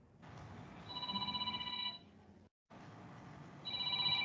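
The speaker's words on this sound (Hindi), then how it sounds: "एक मिनट फोन आ रहा है किसी का।" A phone ringing with an incoming call: two bursts of electronic ring tone warbling close by, separated by a brief silence, over a faint background hiss.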